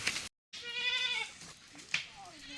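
A goat bleats in a tribal village at Seethampeta in the Manyam area: a long, wavering nasal bleat up close, then shorter, fainter bleats after a brief silent gap.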